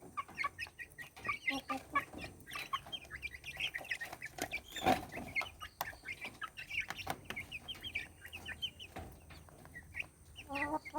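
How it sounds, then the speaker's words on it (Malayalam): Young chicks peck at their feed, keeping up a busy, fairly soft stream of chirps and little clucks at close range. "കണ്ടോ കോഴിക്കുഞ്ഞുങ്ങൾ നല്ല സ്വാദോടെ ഭക്ഷിക്കുന്നുണ്ടോ."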